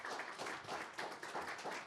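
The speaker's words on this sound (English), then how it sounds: "So give a big round of applause to Victoria" Audience applause at a community forum, a steady wash of many hands clapping at moderate distance, fairly faint and even throughout with no talk over it.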